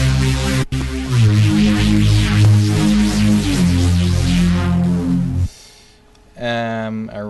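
A drum and bass synthesizer line growls with an automated cutoff filter, dense and loud over a heavy low end for about five seconds, then drops to a quiet gap before a brighter tonal phrase returns near the end.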